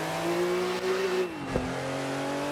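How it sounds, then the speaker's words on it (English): A Ferrari race car at the 1956 Monaco Grand Prix accelerates back onto the track, its engine a steady, close, buzzing drone that dips in pitch partway through, with a brief thump just after, and no voices. "As Fangio settles into Collins's car, he quickly accelerates back onto the track."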